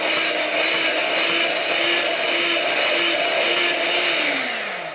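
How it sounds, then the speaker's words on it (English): An electric whisk beats egg-based mayonnaise ingredients with salt in a bowl, a steady close-up whirring with a faint rhythmic pulse that holds throughout, then slows slightly at the end. "I'm just going to turn my whisk on and I'm going to begin to whisk these"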